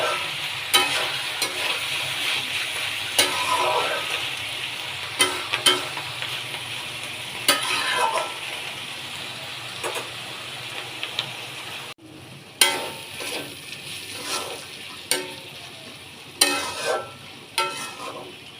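Potatoes and onion stalks sizzle loudly in a pan, with regular scraping stirs from a spatula over a continuous frying hiss; the sizzle drops briefly partway before resuming with sharper stirring strokes.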